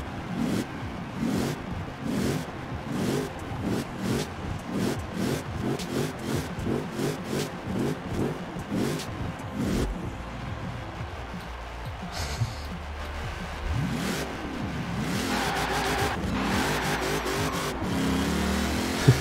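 A dedicated drag car in Forza Horizon 4, a Barrett Jackson car pack model, its engine revving through rhythmic repeated pulses then rising into a steady high-pitched acceleration, with a voice talking faintly over it.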